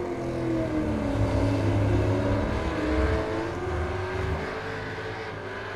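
A race car in iRacing at Lime Rock Park GP, during a Supercars championship round, does a burnout. The engine drones loud and steady, its pitch wavering and sliding, with a rough tire-spin hiss beneath and no talk.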